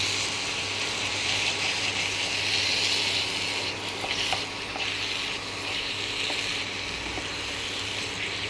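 Salgam bharta being stirred in a pan over heat, a continuous loud sizzle with scattered spoon scrapes and clicks against the pan.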